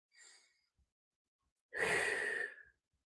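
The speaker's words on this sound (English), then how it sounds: "Take a deep breath" A slow, deep human breath during a calm guided meditation: a soft, brief inhale, a pause, then a longer, fuller airy exhale, close and alone in quiet surroundings.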